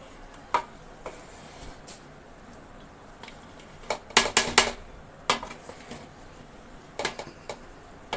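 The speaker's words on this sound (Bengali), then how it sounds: "এখন নেড়ে দিব।" Tehari rice is stirred in a cooking pot with a metal spoon, making scattered clinks and scrapes against the pot, including a quick burst of rapid knocks midway, close and fairly quiet.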